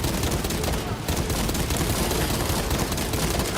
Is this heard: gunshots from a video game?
yes